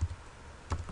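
Keyboard taps on a computer while entering a value into a web page form, two or three close, moderately loud clicks spaced apart with quiet between them.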